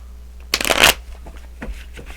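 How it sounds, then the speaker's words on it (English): A deck of oracle cards is shuffled close up, one quick loud riffling burst followed by softer flicks and taps of the cards. "Let's pull some oracle cards."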